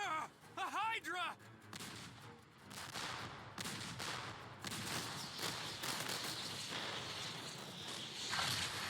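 Cannons fire at a Hydra in a Dragon Quest battle, heavy booming blasts rolling one into another in a dense, chaotic fight, mixed with shouted character voices and game effects.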